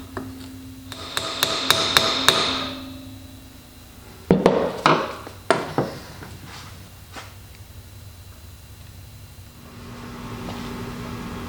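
Tapping while an oil pump is pressed into a D-type overdrive unit during a rebuild: a quick run of sharp metallic taps, then a few louder isolated knocks, close up with no talk.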